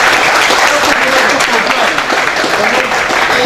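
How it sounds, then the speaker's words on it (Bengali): A large audience at an anniversary event breaks into loud, sustained applause, dense and continuous throughout. "সো একটা জোরে হাততালি এদের জন্য।"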